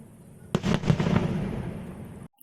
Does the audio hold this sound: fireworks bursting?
yes